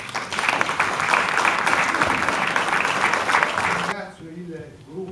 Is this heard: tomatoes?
no